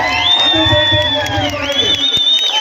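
A crowd at an outdoor house-site distribution ceremony attended by an MLA cheers and shouts in a loud, continuous roar for Nara Lokesh, with whoops and scattered clapping mixed with voices throughout.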